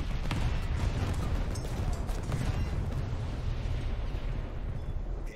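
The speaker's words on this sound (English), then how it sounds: "These 5-inch 38s are deafening." Five-inch/38 naval guns firing in the World of Warships naval combat game, a dense, loud barrage of booming shots and rumbling blasts layered continuously, with sharp reports standing out near the start.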